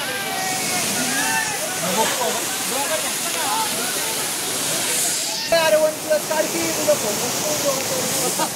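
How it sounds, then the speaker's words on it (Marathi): A small waterfall on a monsoon trek to Nakhind pours with a steady, close rush of water that runs the whole way, while people talk over it. "एक छोटंसं धबधबा आहे. छोटासा म्हणजे भरपूरच छोटा आहे."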